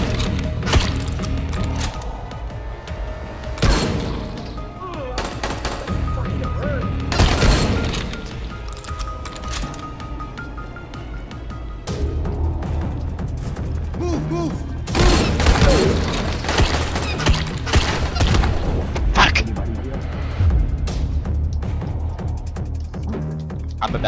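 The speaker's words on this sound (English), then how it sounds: "I feel like I have the super shotgun from Doom." Shotgun fire in Dying Light: repeated heavy blasts at irregular intervals over dense, clattering combat noise, loud and close throughout.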